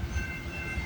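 A CPKC freight train passing, a steady rumbling roll of railcars with a faint metallic ring, heard up close and without talking.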